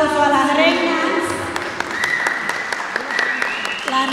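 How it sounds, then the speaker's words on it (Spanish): Audience applause for the queens of the 2015 Brooklyn Dominican Day parade at a press conference, a steady patter of clapping under a voice and other talk, with scattered sharp individual claps standing out. "yo quiero que le den un aplauso a las reinas"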